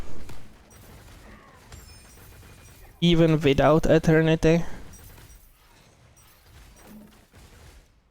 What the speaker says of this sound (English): the explosion from the gloves simply takes care of all the clearing